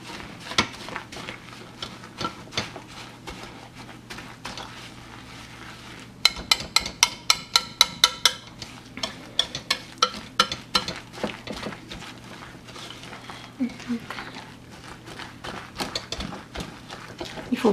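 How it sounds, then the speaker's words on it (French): Ghriba dough of coconut and fine semolina being stirred in a bowl, with repeated scraping and clinking of a utensil against the dish, louder rapid taps midway, under soft background hum. "On va ajouter la semoule fine petit à petit tout en mélangeant."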